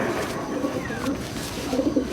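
Pigeons coo softly in a loft, low murmuring calls repeating under a steady background hum, with a few fuller coos near the end.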